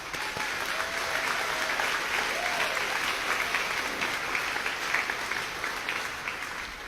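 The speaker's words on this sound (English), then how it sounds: "Give yourself a round of applause" Graduation crowd gives itself a round of applause, a dense, sustained roar of many clapping hands that stays loud and even throughout, with a few faint voices and cheers mixed in.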